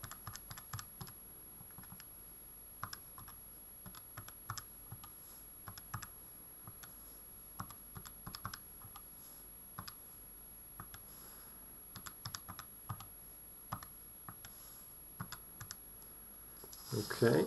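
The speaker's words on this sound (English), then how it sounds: "now's a good time to go to your calculator, now that we've got rid of powers, and type everything in carefully" Quiet, sparse key taps as numbers are entered into a calculator, faint irregular clicks spread across a low background hiss with no talking.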